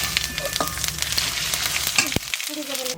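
Cumin and spices frying in hot oil in a kadai, a close, steady sizzle and crackle with a few sharper pops and stirring scrapes, fading out near the end.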